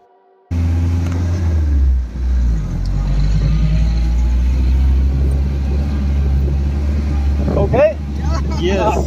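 An old car driving along a road in Tuddal, Norway, giving a loud, steady low engine rumble heard from close by, with brief voices near the end.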